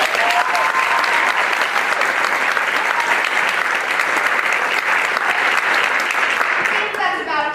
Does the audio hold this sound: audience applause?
yes